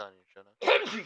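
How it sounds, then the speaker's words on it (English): Someone speaks a few words, then lets out a sudden loud sneeze right into a podcast microphone, close and harsh, trailing off briefly. "I wasn't trying to sneeze into the mic."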